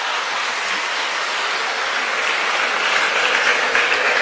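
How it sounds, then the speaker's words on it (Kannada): Audience clapping at a Kannada talk on youth and a new India, a dense, steady wash of applause that holds level throughout and swells slightly toward the end, with no voices over it. "ಸ್ವಲ್ಪ ಹುಡುಗರ ಕಡೆ ಜಾಸ್ತಿ ಚಪ್ಪಾಳೆ ತಟ್ಲಕತ್ತಿದ್ದೀರಿ"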